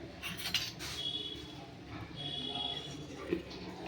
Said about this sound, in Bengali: দুধ আর সুজিটা ওই চামচটা দিয়ে নেড়ে নে